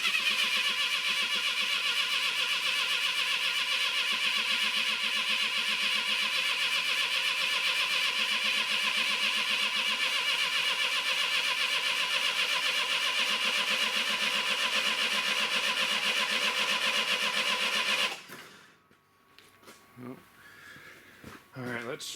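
A Clark forklift engine cranks with a loud, even, droning churn for about eighteen seconds, then cuts out abruptly, leaving quieter scattered sounds.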